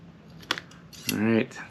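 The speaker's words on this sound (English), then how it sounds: "Try to get a little deeper in the scissors here to get some good grip." Scissors snip a rubber watch strap, giving a sharp click followed by a longer, louder crunching cut, close up and fairly quiet.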